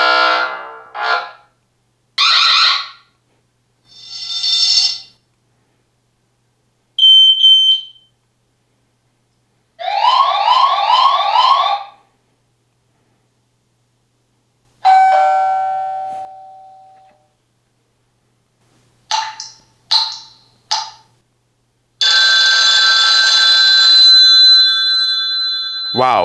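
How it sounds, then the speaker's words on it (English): A TP-Link Tapo H500 smart home hub plays a run of its custom ringtones one after another, loud and close. Chimes, bell-like rings, trills and tonal beeps are broken up by short silences. "Ringtone. Custom sound. You can choose from 1 to 10."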